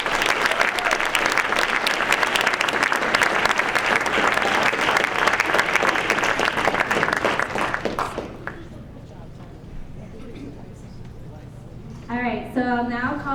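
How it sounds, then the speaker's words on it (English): A student government senate audience at Rowan University claps loudly for about eight seconds, then the applause fades into room murmur before a voice begins speaking. "So if you could please give him a round of applause."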